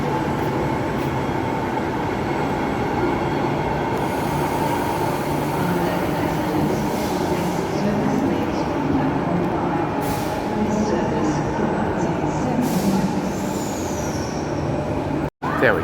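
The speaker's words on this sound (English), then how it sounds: "There we go. Here's our train." A new Perth train pulls into the station with a steady loud rumble and hum of the rail cars, brief hisses and clatters on top, ending in a sudden abrupt cut.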